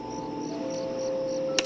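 Crickets chirp in the Five Nights at Freddy's 4 video game: a steady, continuous insect trill at moderate volume, with a brief sharp click near the end and no talk.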